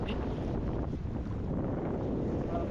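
Wind gusting across a Baltic Sea beach, a constant low rumble of buffeting air against the microphone with a faint wash of surf beneath.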